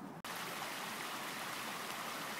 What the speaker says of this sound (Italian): Ecco l'attraversamento delle ripide acque di Torricella.